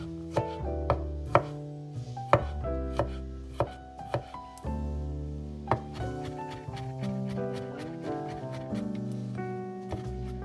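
A knife chops smashed garlic on a cutting board in a quick, uneven series of close, sharp taps, with a faint tonal background under the strokes and no talking.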